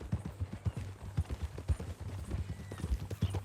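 A horse's hooves clip-clop in Red Dead Redemption 2, a steady, fairly close rhythm of low thuds at a walking pace, with faint game ambience underneath.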